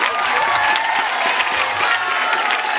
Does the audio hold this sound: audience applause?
yes